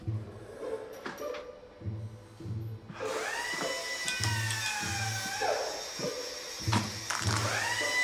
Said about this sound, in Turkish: Bu ses sizden mi geliyor? Evet efendim, evde tadilat var.